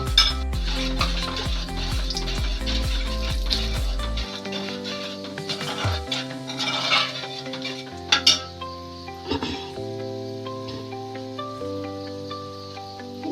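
Curd is poured into pineapple pulissery in a pot and stirred, bringing clinks of a metal spoon against the pot, a few sharper knocks and soft liquid stirring, with a steady musical tone running underneath.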